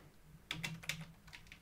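A short burst of a few keystrokes on a computer keyboard while writing a simulation script, soft and close, a handful of clicks over about a second.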